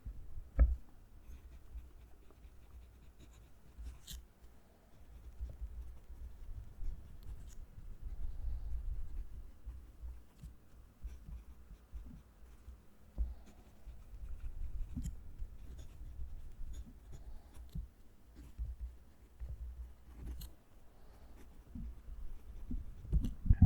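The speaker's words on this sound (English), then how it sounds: "Let's move the mic down to the page so you can hear the pen write." A TWSBI Vac700R fountain pen with a stub nib writes on paper close up, giving soft, intermittent scratchy strokes with occasional small taps, faint over a low background rumble.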